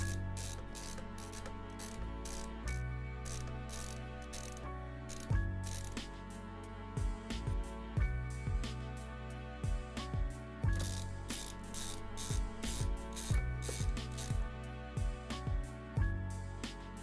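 A ratchet screwdriver clicks rapidly and steadily while backing screws out of a keyboard during a build, with repeated bursts and short pauses throughout.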